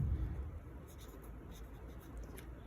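A marker or chalk writes an equation on a board, soft scratchy strokes close by, faint and intermittent over low room noise.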